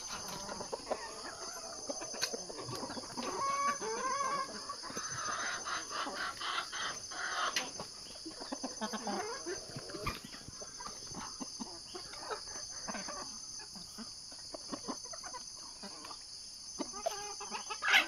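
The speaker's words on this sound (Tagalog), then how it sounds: "Pakain ulit tayo ng ating manok dito sa bundok." Chickens on a misty mountain farm at feeding time, repeated near clucks and squawks scattered over a quiet background, with occasional faint rustling.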